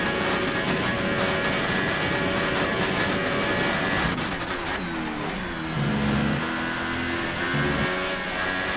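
Formula 1 car engine in the F1 2018 racing game at the Spanish Grand Prix in Barcelona, a loud continuous high-pitched whine that climbs and drops with gear changes through a qualifying lap, dense and unbroken with no talk.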